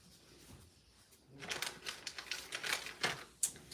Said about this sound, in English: we're going to trim off that end right there